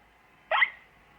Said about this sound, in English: Peppa's cure for hiccups doesn't seem to have worked.